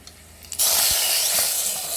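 Hot tempering poured into toor dal soup (pappu charu) erupts into a loud, sudden hiss that sizzles steadily for over a second after a quiet start.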